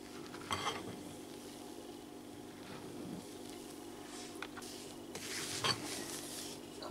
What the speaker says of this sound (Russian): Первую порцию муки размешал, добавляю следующую.